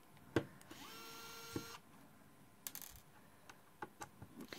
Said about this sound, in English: So here's my motion control screwdriver that I just love.